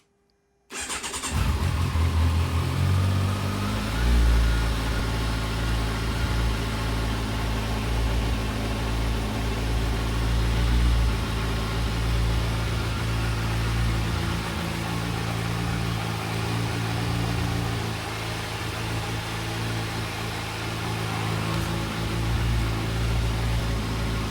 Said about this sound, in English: So I'm gonna start the engine right now